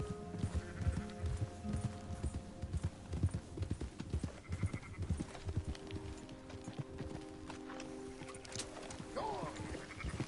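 Horse hooves in a video game clip-clop in a quick, uneven rhythm, loud at first then easing, with a whinny near the end over a low background hum.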